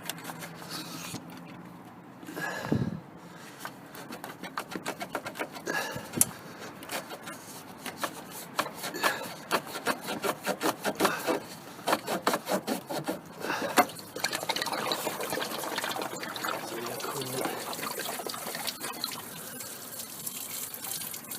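Coolant drains from a Holden Commodore radiator after the hose is pulled off, a sustained trickling, splashing water sound with rubbing and scraping handling noises, close and fairly loud.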